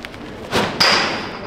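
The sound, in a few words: lacrosse ball shot hitting the net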